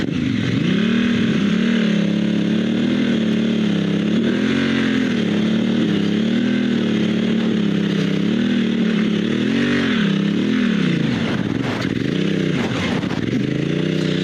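A dual sport motorcycle on Metzeler Karoo 3 tires, 60% dirt and 40% street, rides close by with a steady droning engine that rises and dips as the throttle changes, plus some scraping and clatter.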